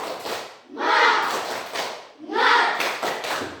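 An audience performs a rhythmic spirit clap, two swelling bursts of group clapping mixed with shouted voices, close and loud in a hall.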